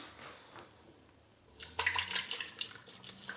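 Water runs from a kitchen tap into a cup while a drink is made, a steady splashing rush that starts abruptly partway through and continues to the end after a quiet stretch.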